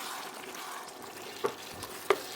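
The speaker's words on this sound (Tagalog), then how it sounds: "Ayan, kumukulo na ng mabuti." Leftover chili dish bubbling in a pot on the stove, a steady simmering hiss with a couple of sharper pops near the end.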